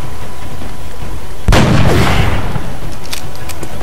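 A single sharp sniper rifle headshot in XCOM: Enemy Unknown cracks out loud and close, followed by a short rumbling tail and a few faint clicks, with no talking.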